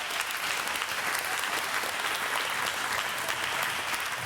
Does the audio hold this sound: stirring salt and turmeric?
no